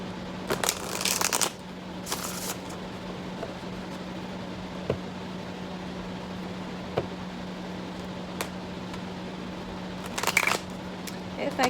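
Tarot cards are shuffled in a few quick riffling bursts near the start and again near the end, with scattered taps and a steady hum between.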